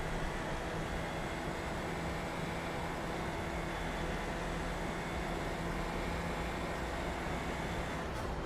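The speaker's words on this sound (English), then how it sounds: "This car sounds like a clothes washer on spin cycle." A car engine with a steady, dense whirring drone like a washing machine on spin cycle, loud and unbroken throughout with no pauses or voices.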